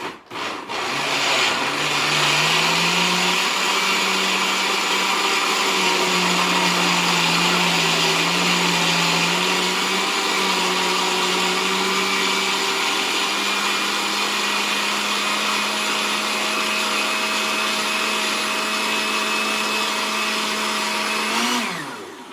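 A food processor with its lid on chops sofrito ingredients such as cilantro for Puerto Rican sofrito, a loud, continuous motor whir with a rough grinding edge that holds steady for about twenty seconds before cutting off.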